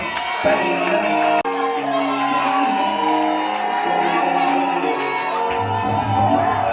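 Wedding guests at a customary and civil wedding celebration cheer, whoop and shout for the groom in a loud, continuous crowd roar, with music playing underneath and a brief dip partway through.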